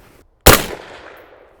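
A single close, loud rifle shot from a .223 firing Swedish solid copper core lead-free match ammunition: a sharp crack followed by a decaying tail of echo, with no voices.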